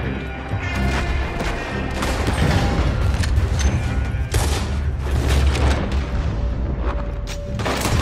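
A wagon loaded with oil blows up during a gunfight in Red Dead Redemption 2, a loud booming blast followed by crashing debris and rattling gunfire, dense and sustained for several seconds.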